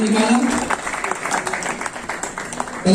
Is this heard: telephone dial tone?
no